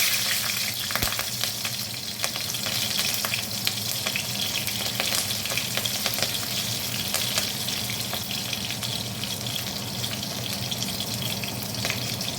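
Green chillies frying in oil with black cumin while cooking a Bengali bata fish curry, giving a steady, close, continuous sizzle with faint crackles and no talking.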